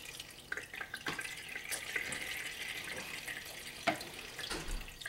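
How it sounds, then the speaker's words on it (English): Clarified butter is poured and strained through layers of cloth, making a continuous trickling, splashing flow with a few small bumps and drips. "And I'm just straining it through these layers of cloth."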